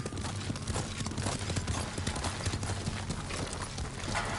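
Horse hooves clip-clop at a steady, close pace in the game Ghost of Tsushima, a rhythmic trotting that runs throughout under a dense, continuous ambient backdrop.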